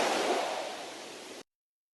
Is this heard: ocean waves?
yes